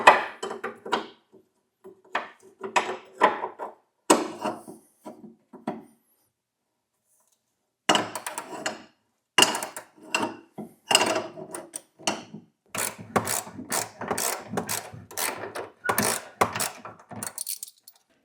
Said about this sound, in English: I need to use a wrench to hold the back side, and then I'm going to try to turn the front side